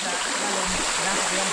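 Flowing water at Kawasan Falls in Trinidad, Bohol gives a steady, even rush of moderate loudness that fills the whole short stretch without a break.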